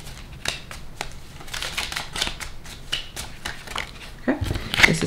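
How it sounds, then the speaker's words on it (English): Tarot cards shuffled and drawn from a deck, a series of crisp flicks and slaps close by, with card handling growing busier near the end; faint talk sits beneath. "Throw out a card for Priscilla."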